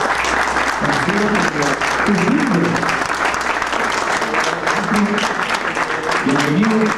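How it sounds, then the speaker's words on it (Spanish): Audience applause for a Cuban guest musician at a music event in Bogotá, dense, loud clapping filling the whole stretch while a voice is heard faintly through it. "vamos a darle un fuerte aplauso a nuestro invitado cubano"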